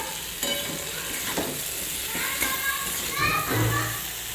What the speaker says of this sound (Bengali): 2 মিনিট ভাজার পরে দেখতেই পাচ্ছেন বেগুনগুলো আমার সুন্দর ভাজা হয়ে গেছে